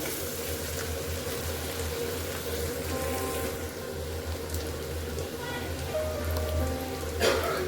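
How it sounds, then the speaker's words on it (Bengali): Chopped onions fry in hot oil in a pan for prawn bhuna, giving a continuous, close crackling sizzle that stays fairly even throughout. "এবার আমি চিংড়িটা ভুনা করার জন্য আমি এখানে পেঁয়াজ কুচি ভেজে নিচ্ছি"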